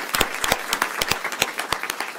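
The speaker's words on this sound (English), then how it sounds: "Give them a hand clap." A small audience at a school board meeting claps for student dancers, a sparse scattering of distinct, close hand claps with uneven rhythm.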